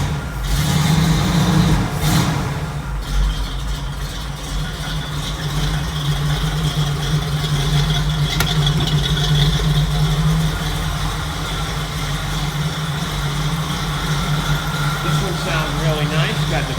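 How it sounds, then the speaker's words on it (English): A Jeep CJ-7 V8 idles with a little throttle, a steady, close, loud low rumble with light rattle running throughout, while a person talks over it. "Sounds really nice. Got the V8 rumble."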